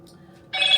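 A phone rings suddenly partway through in a home kitchen during baking, a bright, loud electronic trilling tone that cuts in after a quiet stretch with low background noise.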